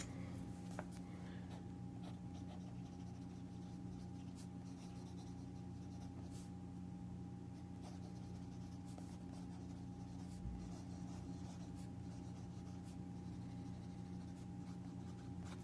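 Broad-nib fountain pen gliding over paper with flowing ink, a soft continuous scratchy rub that carries on steadily at close range, with low background hum and no talking.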